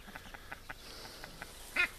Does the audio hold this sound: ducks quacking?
yes